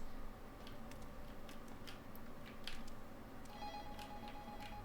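A telephone ringing inside the horror video game Incantation, a faint, repeated electronic trill over a steady low ambient hum, with small ticking sounds in the quiet room.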